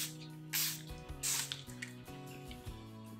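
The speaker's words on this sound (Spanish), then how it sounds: "hay sprays tipo de estos así que fijan el maquillaje" Makeup setting spray for a Halloween or Day of the Dead look gives two quick misty spritzes, each a short hiss, over soft background music.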